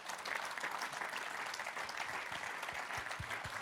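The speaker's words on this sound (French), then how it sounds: "On vous applaudit" Steady, fairly faint applause comes from an audience at a general assembly after a round-table discussion, with dense clapping continuing evenly throughout and no voices over it.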